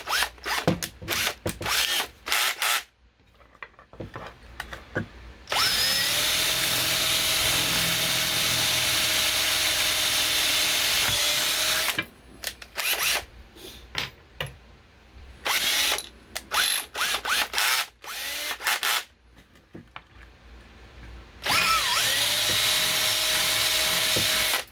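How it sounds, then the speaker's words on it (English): A step drill bit bores a large hole through the bottom of a plastic box for a power port, grinding and ratcheting in repeated bursts of a few seconds each, with pauses between and a steady whine in the longer runs. "So we're going to step drill that so I don't shatter the box."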